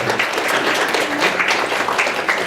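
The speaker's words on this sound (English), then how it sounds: "I'd like you to give her a round of applause as she gets started with her presentation" Steady, dense round of applause from a conference audience welcoming a presenter at a junior Model U.N. prep event, evenly sustained and fairly loud throughout.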